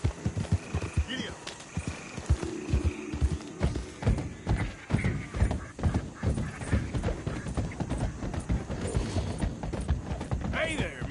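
Horse hooves clip-clopping at a steady trot in Red Dead Redemption 2, a continuous rhythmic patter near and clear, with a brief whinny and game voices talking over it.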